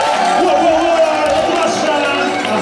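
Crowd at a live event with an MC cheering and whooping for a performer from Paris, a dense, loud wall of voices and shouts sustained throughout.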